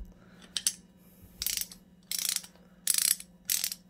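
A Craftsman 15-inch long handle ratchet clicks after being lubricated, five short bursts of rapid close ratcheting separated by brief pauses, over a low steady hum.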